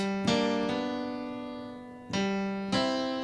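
Rock and roll piano pull-down chords in G ring out one after another, each struck firmly and left to sustain and decay, with a short gap before the next hit.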